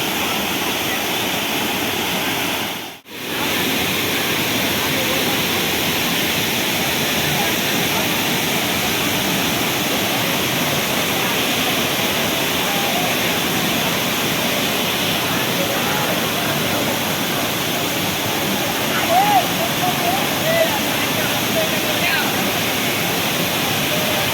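Savdav village waterfall in Konkan, full with heavy flow, roars as a loud, continuous broadband rush of falling water close by, with a brief dropout near the start and faint voices in the background.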